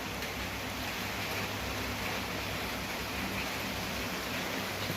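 Steady rain falls outside a house on a cold evening, a dense, even hiss of drops on surfaces that holds constant throughout with no voices.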